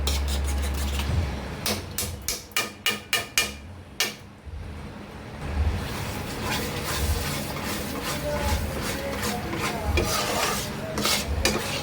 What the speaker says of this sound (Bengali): একবারে ঘি দিয়ে ভালো করে নেড়ে নিতে হবে